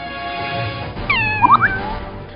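A stray cat gives a short, clear meow with rising and falling wavering tones. The call stands out over a low, steady background hum, and no voices are present.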